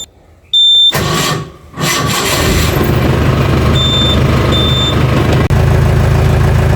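A jeep engine cranks with a brief whir, catches and settles into a loud steady idle with a couple of faint beeps over the running engine, then the rumble deepens near the end.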